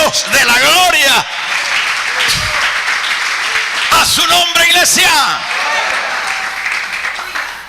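A church congregation claps together in a burst of applause as an offering, loud and sustained, with a preacher speaking over it in Spanish.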